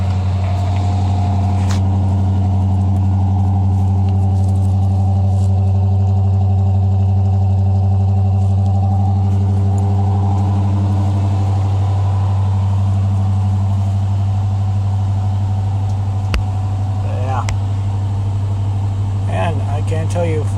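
A 1978 Chevy 1-ton 4x4 truck with a 350 V8 idles steadily after a cold start, a loud, close, constant low rumble running throughout, with a voice talking over it.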